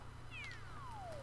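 A single thin, falling meow from a cat character in the video game Super Mario 3D World, brief and fairly clear over a low background hum.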